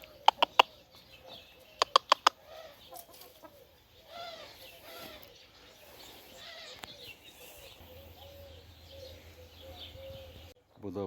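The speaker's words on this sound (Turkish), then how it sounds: "Burası da tavuklarımızın bahçesi. Tavuklar ot yiyor." Chickens clucking softly outdoors with occasional sharp clicks, while a person talks intermittently nearby.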